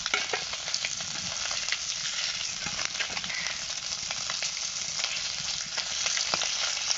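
Fish frying in a pan of hot oil gives a steady, dense, close sizzle that holds level throughout, crackling with occasional pops and light stirring.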